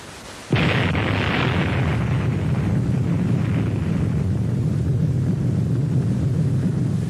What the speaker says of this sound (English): you will see 2 views of the atomic bomb explosion taken from the observer ships